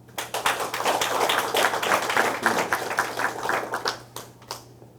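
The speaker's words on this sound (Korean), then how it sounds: "이분들을 격려하는 특별한 박수를 청합니다." Audience applause at a military forum on junior officer service conditions, a dense burst of many hands clapping that swells, holds steady, then thins to a few scattered claps before fading, with a low steady hum underneath.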